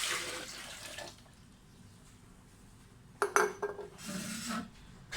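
Water poured into an electric blender jug in a home kitchen, a short splashing pour with clinks and knocks of the container in between, near and clear with no talk.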